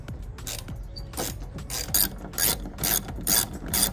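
Three T40 Torx screws being driven back in with a ratchet during an overland vehicle solar panel install, a close series of quick clicking ratchet bursts in an uneven rhythm, with no talking.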